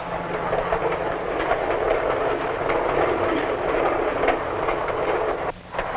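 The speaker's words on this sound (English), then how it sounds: "While the train speeds into the dusk" A passenger train from the 1950s speeds along the rails at dusk, a steady loud rumble with clattering wheels that runs unbroken, then briefly dips near the end before resuming.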